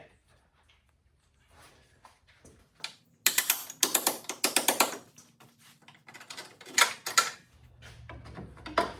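A hand ratchet works on a bolt under a Fox Body car during an oil pump replacement, with rapid clicking bursts in two main runs after a quiet start, close by, and faint talk in between.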